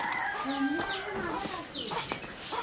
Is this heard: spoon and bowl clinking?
no